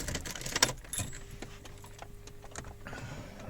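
Car keys for a BMW jangle close by in short metallic bursts, with a faint mechanical hum and light clatter from a workshop setting behind.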